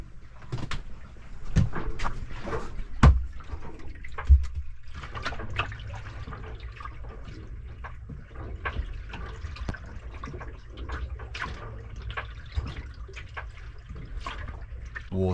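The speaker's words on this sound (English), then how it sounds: "Water tickling the hull." Soft water trickling and lapping against a sailboat hull on an open-ocean passage, irregular small splashes, close by and fairly quiet, occasionally punctuated by louder knocks.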